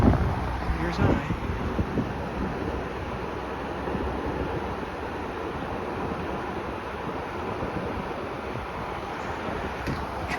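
Breezemaker Model 87 window fan running on high speed, giving a steady, loud broadband whoosh that holds even throughout, with wind buffeting the microphone outdoors.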